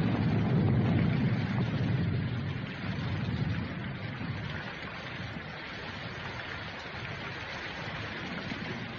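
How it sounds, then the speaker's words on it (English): Rain falls steadily in a storm in an old film scene: a dense, even hiss with a low rumble that is heaviest at first, then settles into a constant wash, with no voices. "Hey, kids, it's going to rain."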